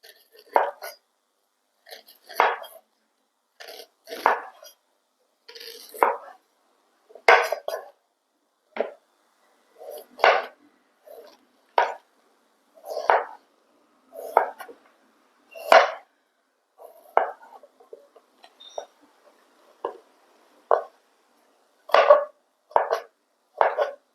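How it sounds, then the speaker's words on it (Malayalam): A knife slicing banana thinly for thoran, giving steady, sharp chopping taps repeated about once a second over a quiet background. "നമ്മൾക്ക് ഇതിനെ മുറിച്ചെടുക്കാം കുറച്ച് നീളത്തിൽ നമുക്ക് കനം കുറച്ച് അരിഞ്ഞെടുക്കണം"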